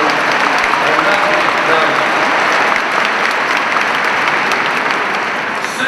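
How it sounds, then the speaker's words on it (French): Loud, dense applause from an audience at a Maranatha prayer gathering, a steady wash of clapping that fills the whole stretch without pause and eases slightly at the end. "Là, vous pouvez m'applaudir."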